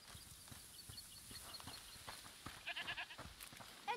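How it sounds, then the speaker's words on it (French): Goats bleat faintly in the distance over a soft, steady background hiss, with a short cluster of bleats near the end, in the video game A Plague Tale: Requiem. "Les chèvres."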